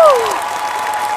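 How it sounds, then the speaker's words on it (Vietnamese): Audience applause at a televised bolero singing competition, a dense steady wash of clapping from a crowd, with a brief sliding musical tone fading out at the start. "chúng ta phải một tràng pháo tay dành cho anh trống cái đã"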